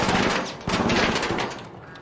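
Rapid automatic gunfire from an enemy in the video game Arc Raiders, loud and close, a dense rattling burst that restarts after a brief dip and continues to the end.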